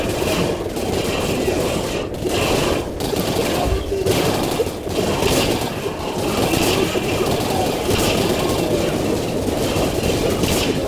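Gunfire in the video game Singularity, a dense, continuous barrage of shots and impacts running throughout at high loudness, with a player's voice occasionally talking underneath.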